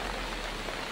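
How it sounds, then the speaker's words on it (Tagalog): Rain falling over a flooded area, a brief, dense, even wash of droplets close by, with no voices. "sumasabay pa tong langit, no? Umuulan pa."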